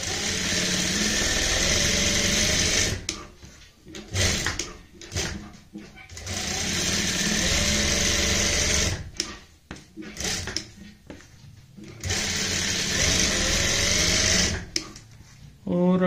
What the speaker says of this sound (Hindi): तो यहाँ पे मैं इसी तरीके से सिलाई लगाता जाऊंगा।